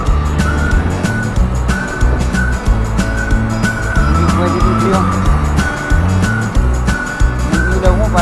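Busy road traffic heard from a moving vehicle on a long ride to Tagaytay, with loud continuous engine and tire noise, cars passing close by, and frequent sharp clicks and tones over the rumble.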